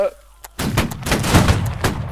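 A gunfire volley in a video game, a sudden loud burst of overlapping musket-like shots after a moment of near quiet, followed by rolling echoing reports.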